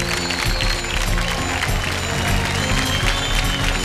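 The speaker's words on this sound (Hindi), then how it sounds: "तो जोरदार ताली से स्वागत हो के ए अदला बदली की" An audience applauds on the stage of a Bhojpuri TV dance show, Naach Nachaiya Dhoom Machaiya, with dense, continuous clapping that holds steady and loud throughout, mixed with a musical backdrop.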